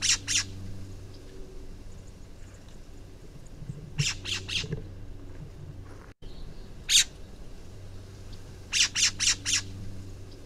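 Harsh, raspy Woodhouse's scrub jay calls come in short clustered bursts, repeated several times over quiet background hum, in the Chihuahuan Desert in winter.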